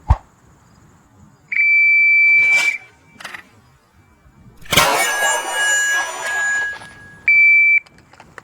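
A shooting shot timer gives a sharp electronic beep, followed by a shot's crack, then further steady tones and one more short beep, loud and close at an outdoor handgun range.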